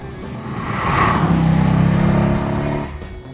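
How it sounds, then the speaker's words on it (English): A Dodge Challenger SRT8 engine accelerates on the road in Dubai, a loud, close, steady roar that swells to a peak and then holds for a few seconds, with no talking. "the best thing of all, of course, is the engine. Just listen to this."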